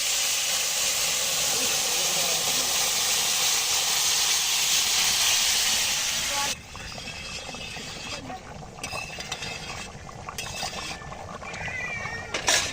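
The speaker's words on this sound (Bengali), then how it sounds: "এখন মাংস দিয়ে দিচ্ছি কড়াইতে।" Meat dropped into a hot kadai sends up a loud, bright sizzle that holds for several seconds, then drops suddenly to softer crackling with scattered clinks from the pan.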